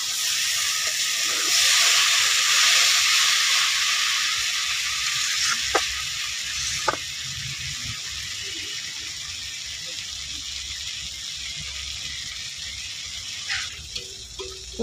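Taro curry sautés in a pan with a steady sizzling hiss that is strongest early on and fades somewhat, while a person talks over it and a few utensil knocks are heard.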